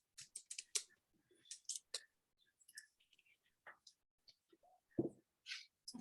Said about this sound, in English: I don't know if Taylor's typing or if she's going to speak